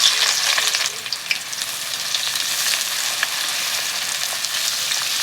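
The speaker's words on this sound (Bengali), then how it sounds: "তার সঙ্গে দিয়ে দিচ্ছি পেঁয়াজ কষানো।" Onions frying in white oil with cinnamon and bay leaf in a kadai, a steady close crackling sizzle that holds throughout with no talk.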